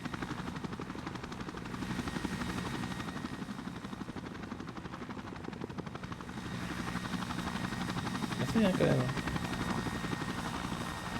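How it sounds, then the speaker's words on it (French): Helicopter in an airport battle video game, a steady rotor drone and whine sustained throughout at moderate level under casual talk, swelling slightly near the end. "Les hélicoptères, c'est quoi? C'est un avion avec des hélices"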